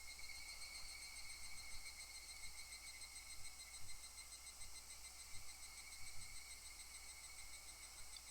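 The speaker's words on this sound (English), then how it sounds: "When was the last time any of you heard wild cicadas?" Wild cicadas drone in a steady, continuous chorus of shrill buzzing, with no pauses across the stretch and faint low rumble beneath, no voices present.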